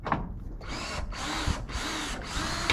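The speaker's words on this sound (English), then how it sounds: "Getting ready to take the screws out of the sheet metal on the bottom corner" A power drill runs in three sustained bursts, backing screws out of sheet metal on the bottom corner of a sliding barn door, loud and close with short pauses between, no talk.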